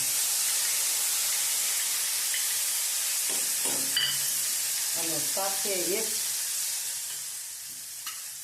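Soaked chutney hisses and sizzles steadily in hot oil while a voice speaks briefly over it; the sizzle softens toward the end.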